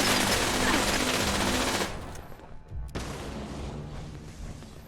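Gunfire in Fallout 76 raider combat: a loud, dense stretch of rapid shots for about two seconds, a brief lull, then quieter continuing fire and battle noise.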